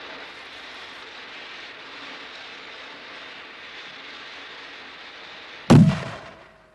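Half a kilogram of explosive buried in a hole detonates in one sudden, heavy blast near the end, cutting through a steady mechanical hum and trailing off in a brief rumbling decay.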